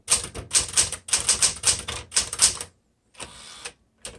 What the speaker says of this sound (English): a Smith Corona manual typewriter like this would be a really good choice